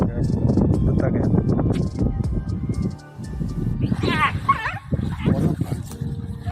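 Dog yelping and whimpering as a crocodile seizes it at the edge of the Chambal river, short high cries breaking out under steady talk and background crowd noise.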